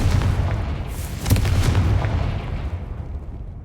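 A Confringo fire spell bursts in a Harry Potter video game, a loud booming blast with a sharp crack near the middle, then a rolling rumble that slowly fades.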